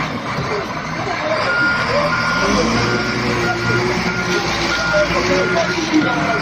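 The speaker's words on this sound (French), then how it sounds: "Le son de la pelleteuse mécanique rebondit toute la soirée, ainsi que les va-et-vient des camions bennes qui ont évacué les immondices." Dump trucks hauling away rubbish at night in Bandalungwa give off steady reversing beeps over rumbling engines, with a mechanical excavator working nearby and a voice talking over the busy scene.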